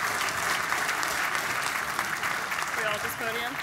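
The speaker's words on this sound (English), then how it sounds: "Round of applause to Tokyo Style." Dense applause from an audience at a PAX West gaming panel, steady and sustained throughout, with a few voices and cheers rising near the end.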